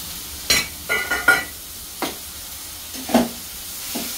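Brinjal curry stirred and fried in a pan, with a faint background sizzle punctuated by several distinct spatula scrapes and knocks at uneven intervals, close and clear with no voices.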